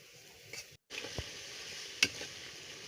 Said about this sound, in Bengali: মশলাটা এখন একটু কষিয়ে নেব, হালকা করে মরিচের গুঁড়ো ধনে গুঁড়ো দিয়ে একসাথে। তার সাথে আমি মাছটা দিয়ে দিলাম।